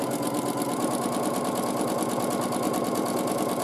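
Sewing machine quilting thread into black fabric, running at a steady fast stitching rhythm throughout, close and continuous with a constant motor hum and no voices.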